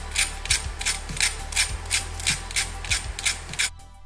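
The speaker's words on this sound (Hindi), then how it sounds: "आप सुन सकते हैं हमारा पैनकेक कितना क्रंची बना है।" A knife cuts a crunchy charred Korean vegetable pancake in about eight regular crisp, scratchy strokes, close and clear, with no voices.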